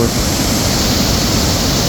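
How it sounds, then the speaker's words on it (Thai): Loud, dense roar of a large waterfall in the middle of the Mekong River in southern Laos, a constant close torrent with no pauses or speech. "เบื้องลงไปนี่น้ำตกอยู่"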